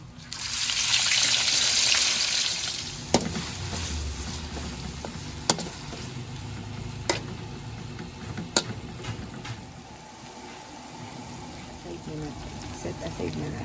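Bacon frying in a pan, a soft continuous sizzle with a louder hiss at the start and occasional sharp crackles, under a person talking.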